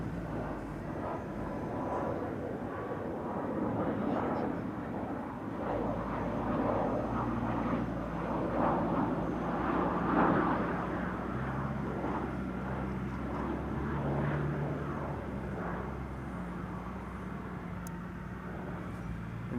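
Etihad Boeing Dreamliner airliner landing at Amsterdam Schiphol on runway 24, a steady broad jet engine roar at moderate distance that swells mid-clip and then fades slightly, with no talk over it.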